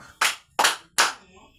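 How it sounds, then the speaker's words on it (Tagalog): A classroom of students gives three sharp, evenly spaced claps together, each one crisp and close, followed by a brief quiet tail. "Bigyan natin si Miko ng tatlong palakpak"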